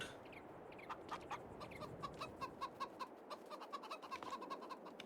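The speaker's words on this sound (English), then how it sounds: "We don't want any chickens running out." Chickens in Farming Simulator 22 cluck in a steady run of short, bright calls, several birds close by over a constant low farmyard background hum.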